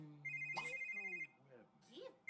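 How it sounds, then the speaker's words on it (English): A phone in The Sims 3 trills with a pulsing electronic ring for under a second, set against the game's quiet background music and Sims' gibberish voices. "Miss Dietrich's getting a phone call"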